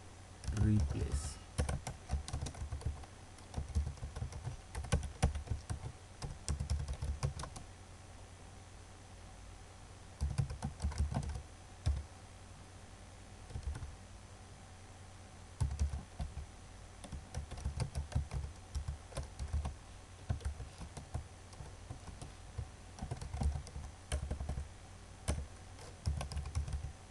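An Ajax web page is being coded on a computer keyboard. Fast bursts of typing keep going for almost half a minute, close and clear, with short pauses and occasional faint speech in the background.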